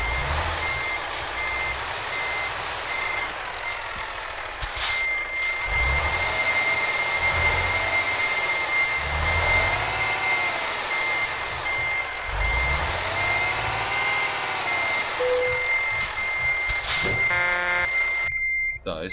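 Repeated reversing beeps from a truck parking in Euro Truck Simulator 2, a steady high tone pulsing over a loud engine rumble that swells and fades as the rig manoeuvres.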